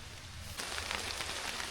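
Rain falling during a student nature club's basic training trek on a mountain trail, a steady hiss that swells from soft to fuller and denser partway through and keeps going to the end, with no voices.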